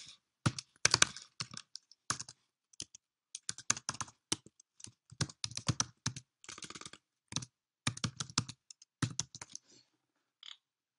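Typing login details on a computer keyboard: close, quiet bursts of rapid key clicks in irregular runs separated by short pauses, with no other sound.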